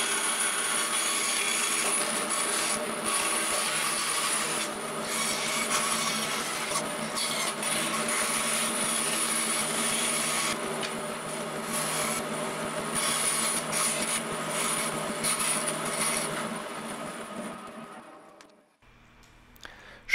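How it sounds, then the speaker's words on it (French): Band saw cutting through a wooden guitar neck template for a baritone guitar, a steady, continuous rasping whine that holds for about eighteen seconds, then fades to near silence as the cut finishes. "ce que je réalise à la scie à ruban"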